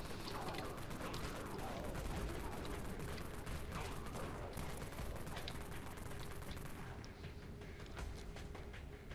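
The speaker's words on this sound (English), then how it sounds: "I'm gonna just use my wraith cannon because there's a lot of zombies in this area right now." Wraith cannon firing at zombies in the video game Dead Frontier, a dense, continuous barrage of heavy blasts that stays loud for the whole stretch with no pauses.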